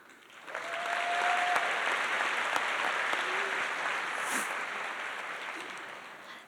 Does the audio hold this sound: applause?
yes